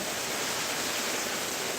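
Heavy torrential downpour at Bhangura bazar in Pabna, a dense, steady roar of rain close by that holds an even level throughout, with no voices.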